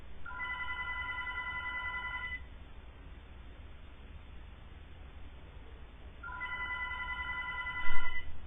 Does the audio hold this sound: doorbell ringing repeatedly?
yes